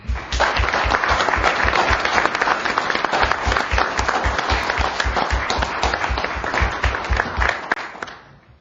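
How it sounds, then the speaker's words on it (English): Council employees receive a steady burst of applause from a room of people, dense clapping that holds at an even level for several seconds before tapering off at the end. "Please give all of these employees a round of applause."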